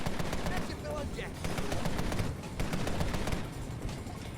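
AK rifle fire in the motorcycle combat game Road Redemption rattles out in dense, rapid automatic bursts, loud and close, broken by a few short pauses.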